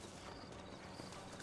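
Horse hooves clip-clopping in the Red Dead Redemption video game, a quick, even run of soft hoofbeats heard alone for a brief moment, fairly faint against a dense background.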